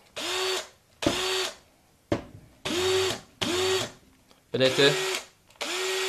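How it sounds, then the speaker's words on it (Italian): A Black & Decker power drill whirs in several short bursts, about six separate runs at speed 2, each with a steady pitched hum and a rattling chuck; a voice speaks briefly in between. "il rumore che sta facendo era dato dal mandrino"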